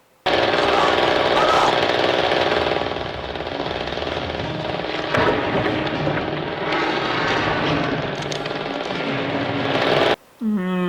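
A chainsaw roars loud and continuous through a frenzied Phantasm II fight scene, with harsh buzzing and clattering nearly the whole time before cutting out abruptly near the end.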